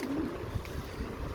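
Pigeons in a breeding loft give soft, low coos, a short drawn-out call early on and a few quieter murmurs, faint against a quiet background.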